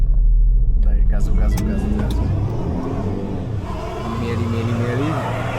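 A car engine rumbles and revs hard, low and loud, while the car is stuck on a steep slope on Madeira, and people talk over the engine noise throughout.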